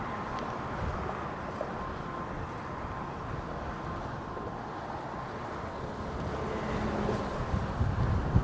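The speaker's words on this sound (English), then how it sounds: "Oh man, it's getting so windy." Steady wind roars and buffets the microphone in a low, constant rush, with no voices, holding at a moderate level throughout, outdoors in San Francisco near Fisherman's Wharf.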